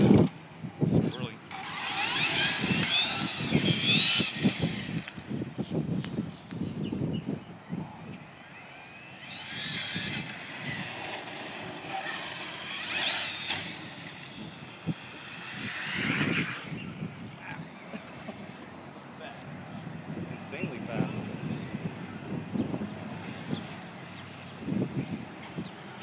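A brushless Revo RC car fitted with a 4600 kV Mamba Max Pro motor revs and accelerates in repeated bursts, rising whines climbing into a higher second gear, near and loud over tire and chassis noise, with no voices.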